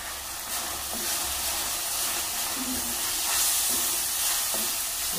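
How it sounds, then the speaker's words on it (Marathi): Masala with chilli powder stir-fried in a pan while making soyabean noodles gives a steady close hiss and sizzle, with soft scraping stirs scattered through and no talking. "परतून घ्यायचं मसाला। शिजून आलेलं।"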